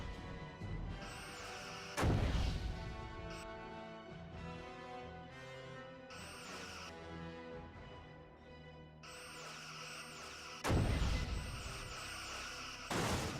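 Phaser fire in the Star Trek Bridge Commander space combat game, with two loud impact blasts among sustained tonal, humming weapon beams and layered electronic effects.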